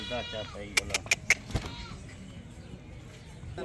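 Rajanpuri goat with horns on a farm, bleating in a quick run of four or five sharp, nasal calls close to the microphone, followed by quieter background noise.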